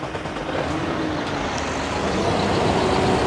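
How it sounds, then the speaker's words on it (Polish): A remote-controlled 40-ton truck's diesel engine runs loud and close after starting, its heavy, even rumble building slightly and holding steady with no voices over it. "teraz sobie pierwsze odpalimy auto, więc tutaj odpalamy auto z boku"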